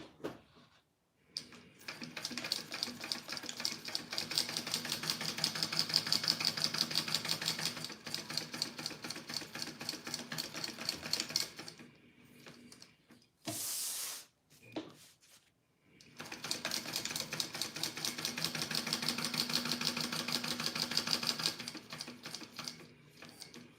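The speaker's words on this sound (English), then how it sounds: "I'm gonna sew this slip pocket on all in one" A home sewing machine runs in long steady bursts, stitching a slip pocket onto a Poppie purse in one pass, with a dense rapid needle rhythm, a short pause and a brief clatter midway before a second sustained run.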